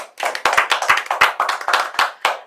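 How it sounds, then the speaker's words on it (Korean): A small group's encouraging applause at a teacher's class-sharing session, close and fairly loud, with distinct crisp claps in a quick, slightly uneven rhythm. "잘하라고 격려의 박수로 시작해 보겠습니다"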